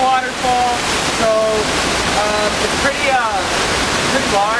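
A large waterfall in Costa Rica, around 500 feet tall, gives a steady, loud roar of rushing water throughout. Bird chirps are mixed in, and voices speak faintly beneath the roar.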